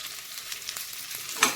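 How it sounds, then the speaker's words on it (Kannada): Ridge gourd frying in hot oil gives a faint, steady sizzle with a brief louder crackling burst near the end, no voices. "ಎಣ್ಣೆ ಹಾಕಿ ಫ್ರೈ ಮಾಡ್ಕೋಬೇಕಾಗಿ ಬರುತ್ತೆ"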